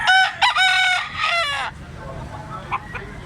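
A young rooster (stag) crows loudly and close by, one long harmonic crow in the first second and a half, followed by faint clucks and low background noise.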